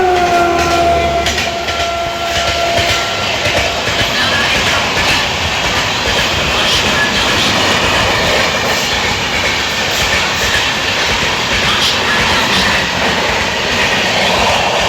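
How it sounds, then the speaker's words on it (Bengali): The Howrah-Ranchi Intercity train runs past a station platform at Narayan Pakuria Murail on a rainy day, a loud continuous rumble of wheels with rhythmic clacking over the rails and a brief high squeal near the start. "হাওড়া রাঁচি ইন্টারসিটি বেরিয়ে গেল"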